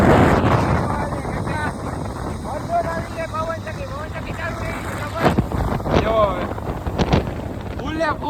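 Strong wind blows outdoors and buffets the microphone with heavy low rumbling gusts, loudest at the start, while people talk throughout.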